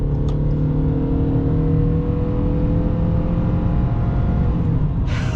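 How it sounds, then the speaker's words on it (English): A 2022 Ford Maverick Hybrid accelerating in sport mode, heard from inside as a loud, steady engine drone with rising harmonic tones and a brief louder burst at the end. "We're setting off here on the Maverick Hybrid,"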